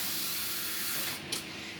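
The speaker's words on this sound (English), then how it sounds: "we're going to put some bit more water in to make it a bit more fuller" Water pours into a pot of Polish tomato soup, a steady close hiss and splash that thins out near the end with a brief sharp burst.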